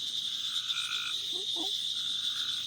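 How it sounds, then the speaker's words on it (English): A green tree frog calls in the background while being handled outdoors, giving a few short, soft croaking notes midway through over a steady high insect-like hiss. "this is the green tree frog. And you can hear its call in the back."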